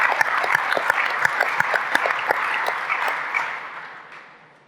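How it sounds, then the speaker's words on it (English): Audience applause at a panel event on modular automation, a steady wash of clapping that holds strong for several seconds, then gradually fades out toward the end. "Big applause for the 2 guys here from Bilimid."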